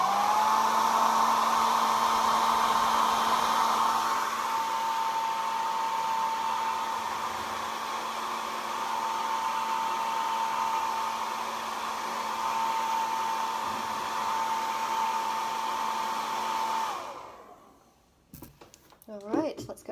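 A hair dryer blows steadily for about seventeen seconds, a loud constant whine with a droning hum, drying a fresh coat of paint, then cuts off, leaving a few soft handling clicks.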